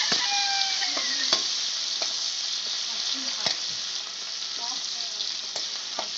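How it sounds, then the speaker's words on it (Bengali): Chopped onions frying in a pan for Chayna Puthi (sorputi) fish kaliya give a steady, close sizzle with a few sharp clicks of stirring scattered through it. "পেঁয়াজ কুচোগুলো দিয়ে দিলাম। এবার এটাকে নেড়ে চেড়ে"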